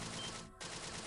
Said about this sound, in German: was war das denn, Schüsse?